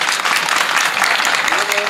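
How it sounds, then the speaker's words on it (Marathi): An audience at a Marathi kirtan for the Dhulivandan festival claps in dense, continuous applause that fills the space, with a voice faintly emerging near the end. "तुम्ही बघितलं का टाळ्या कुठं वाजल्या?"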